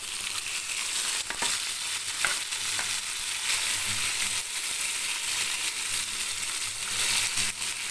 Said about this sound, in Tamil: இப்போ இது எல்லாமே போட்டு வதக்கலாம்